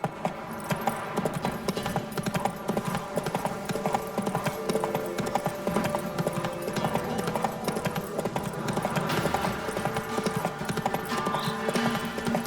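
The horse Roach gallops in The Witcher 3, a rapid, continuous clip-clop of hooves running at speed over game music, with a faint whinny.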